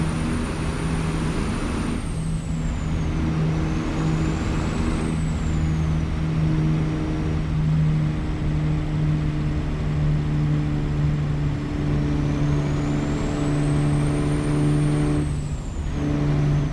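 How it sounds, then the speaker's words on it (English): A Caterpillar 3406E truck engine sound mod in a truck-driving game drones steadily with a deep, continuous rumble, rising and falling with a whistling turbo-like whine as the rig accelerates and shifts. "this is the 2WS from Slab Jerry, the 3406E. Beautiful motor"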